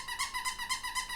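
A human voice imitates a squeaky plush toy, producing about five evenly spaced, high squeaks in a quick regular rhythm, clear and close.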